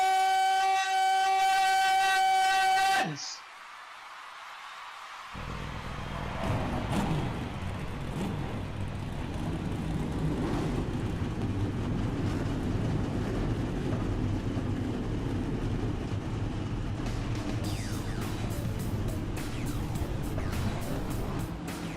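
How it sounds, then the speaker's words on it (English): A few electronic tones ring out, then after a short gap a dense field of simulated NASCAR stock-car engines in iRacing at Atlanta Motor Speedway rumbles to life and holds a continuous low roar. "drivers, start your engines!"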